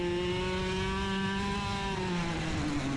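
A KA100 racing kart engine screams at high revs as it is driven hard around the NTK track, a loud, steady, close buzzing drone that shifts pitch as it climbs and eases off, with no talking.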